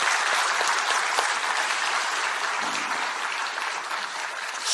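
Applause from newly elected party members at a gathering, steady and even clapping from a sizeable group that carries on throughout.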